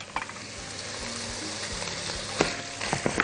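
Onion added to chicken frying in a pot for freekeh soup, a close, steady sizzle punctuated by sharp crackles and clattering stirs, with a few louder pops toward the end.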